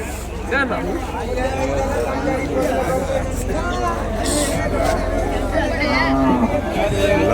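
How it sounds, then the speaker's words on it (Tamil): Cattle lowing and mooing at a livestock market in Vaniyambadi, amid a busy crowd with many voices chattering throughout over a constant low rumble. "நாட்டு மாடுங்க அந்த பக்கம் ஃபுல்லாக ஏகப்பட்ட மாடு"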